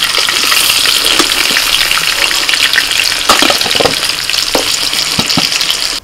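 Potato pieces seasoned with salt and turmeric frying in hot oil, a loud continuous sizzle with crackling pops and occasional stirring scrapes.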